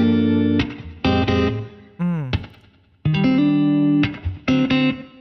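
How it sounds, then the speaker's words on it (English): A real electric guitar lead run through distortion and chorus effects for a K-pop R&B soul track plays sustained, bending notes in phrases separated by brief gaps, loud and close. "And it's actually real guitar."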